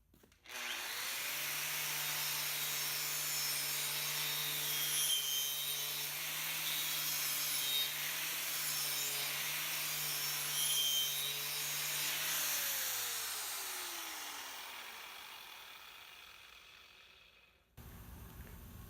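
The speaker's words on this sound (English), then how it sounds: "we must take the wire wheel on the grinder here and remove the rust from the piece of base metal" Wire wheel on an angle grinder scrubbing rust off a clamped piece of base steel before MIG welding, a loud, steady whine with harsh brushing hiss that holds for over ten seconds and then winds down as the motor spins to a stop.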